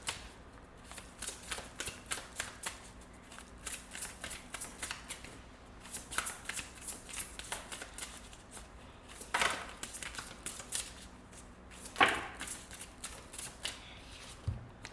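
A deck of oracle cards is shuffled by hand for a pick-a-card reading, giving repeated crisp riffling and flapping bursts close by, with short pauses between the rustling runs and no speech.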